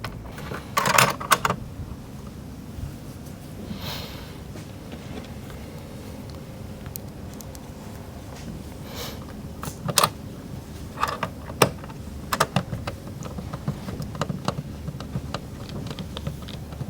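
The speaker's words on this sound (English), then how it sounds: "Now we will reinstall the 4 screws on the perimeter and the 1 screw holding down the cover here." Screws go back into a dashboard cover on a 2014–2019 Toyota Sequoia during a car stereo install, heard as scattered small clicks and ratchety taps against a steady low hum.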